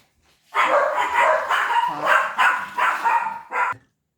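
A small dog barks repeatedly at close range, a rapid series of sharp yaps lasting a few seconds.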